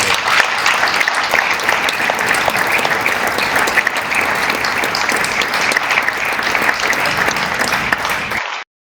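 A crowd at the San Isidro 2025 awards ceremony gives sustained, dense applause that holds steady for about eight seconds and then stops abruptly.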